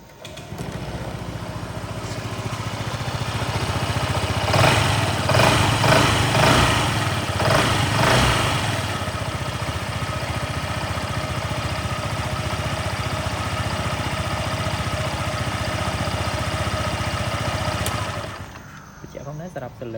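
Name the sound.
Honda PCX 125 scooter engine started and idling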